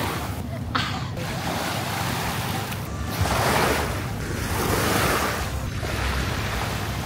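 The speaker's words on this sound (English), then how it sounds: "So now I'm at the beach here, where you know it's a tsunami before here, and how it's beautiful water." Surf washes onto a beach on Phi Phi Island in Thailand, a continuous roar of breaking waves that swells and recedes, mixed with wind buffeting the microphone.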